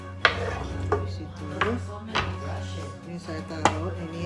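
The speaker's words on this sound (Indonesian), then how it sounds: "potong-potong tomatnya" A knife chopping tomatoes on a cutting board for a dabu-dabu salsa: five or six crisp, evenly spaced cuts, close and clear over a low background hum.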